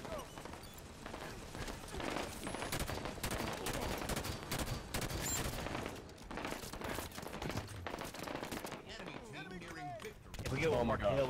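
Dense, continuous firefight in Halo 5: Guardians: rapid overlapping automatic bursts and shots crackle throughout at steady loudness, with a voice talking over the battle.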